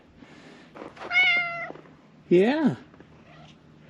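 Two kitten meows ring out clearly near the listener, one drawn-out and one rising-falling, with a brief word from a person between them and faint background noise.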